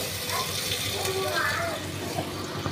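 Tap water runs steadily while potatoes are washed in a home kitchen, a continuous hissing gush that stays even throughout the clip.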